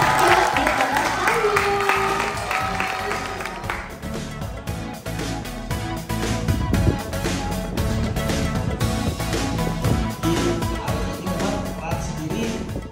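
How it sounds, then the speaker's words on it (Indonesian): Crowd applause at the launch of a tennis venue, scattered clapping mixed with music and crowd noise, with voices talking over it in places. "teman teman tepuk tangan"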